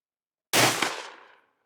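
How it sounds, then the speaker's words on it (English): Charles Daly 101 shotgun fired once at an outdoor range: a single sharp, loud blast with a short ringing decay and nothing else around it. "So why don't we take these to the range and shoot them a little bit."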